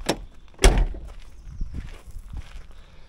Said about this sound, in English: Look, doors open.